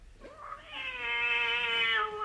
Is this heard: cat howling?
yes